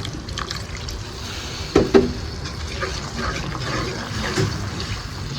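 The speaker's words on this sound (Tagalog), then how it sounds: "Kapag sobrang lapot ng ating oyster sauce, lagyan po natin ng konting tubig" A small amount of water trickles into thick oyster sauce while a fern-shoot (pako) dish is being prepared, a soft, quiet pour marked by a couple of brief clunks from the container partway through.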